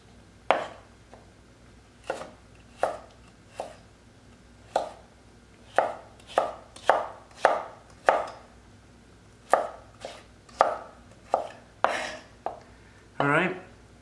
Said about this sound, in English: cut your slices and then cut your matchsticks